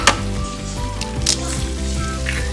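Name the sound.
two small eggs frying in a pan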